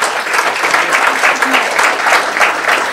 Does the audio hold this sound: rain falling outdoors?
no